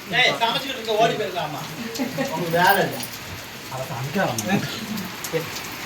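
Steady rain patters down on surfaces throughout, a continuous hiss beneath lively conversation between several people talking over it.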